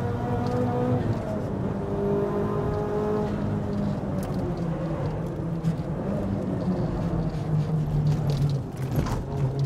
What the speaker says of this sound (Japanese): マフラーはいい音してます。